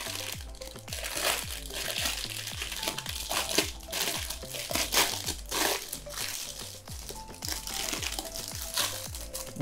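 A box holding an aluminum cellphone holder being opened: continuous close crinkling and crunching of packaging with rhythmic rustles, and no talking.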